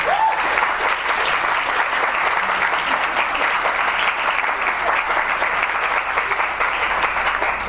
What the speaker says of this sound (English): can we get a big clap?